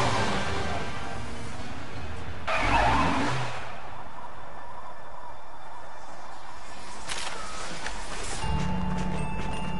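A car in the Sam & Max video game drives and skids, with a steady engine and road roar broken by a sudden tire squeal that fades back into driving noise.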